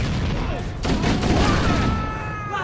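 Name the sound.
gunfire in Halo: Combat Evolved video game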